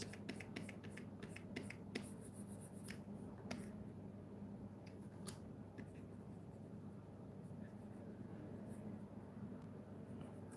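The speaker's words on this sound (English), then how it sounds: "just enjoy the sound of the pen" A pen drawing on paper during an art session, faint scratchy strokes and light taps repeating irregularly close to the microphone under a quiet room background.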